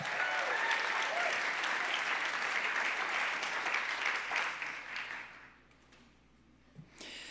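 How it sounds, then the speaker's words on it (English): Audience applause at an arts awards ceremony, a dense, sustained clapping from a large crowd that fades away after about five seconds, leaving a quiet hall with a few scattered claps. "One more round of applause."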